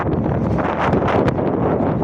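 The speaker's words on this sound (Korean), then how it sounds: "이 바람이 아 장난이 아니네" Strong wind gusts buffet the microphone on an uninhabited island, a loud, continuous rushing roar that fills the whole stretch with no pause.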